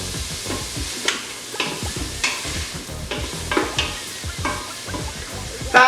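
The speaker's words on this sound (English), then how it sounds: "I'm gonna let my onions sweat out just a little bit till they get about translucenty." Onions sweating in a pan for rajma, a Punjabi kidney bean dish, with a close steady sizzle broken by repeated spatula stirs and scrapes at an irregular rhythm.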